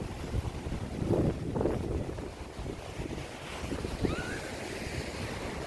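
Small ocean waves at Melbourne Beach, Florida, a steady wash of surf below a beachfront house, mixed with heavy wind buffeting the microphone and no voices.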